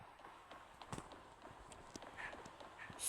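Horse hooves clip-clopping in a video game, a steady run of soft, evenly spaced hoofbeats over a light background wash, fairly quiet and with no talk.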